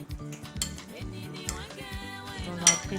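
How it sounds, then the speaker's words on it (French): Fruit dish with pineapple juice stirred with a metal utensil against a bowl, giving repeated close clinks and scrapes in an even rhythm, with background music and no talking. "Je vais remuer comme ceci."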